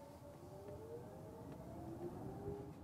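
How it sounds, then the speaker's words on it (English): A 2023 Genesis GV70 EV plays its synthetic "E motor" driving sound, a steady electronic whine with tones that glide slowly upward, heard on its own with no talk. "provides a natural electric motor sound for electric vehicles"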